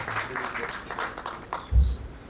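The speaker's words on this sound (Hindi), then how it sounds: "इनके लिए तालियां तो बनती है ना" Audience applause at a stage event honoring a guest, a soft, continuous patter of many hands at moderate distance, with a brief low thump near the end.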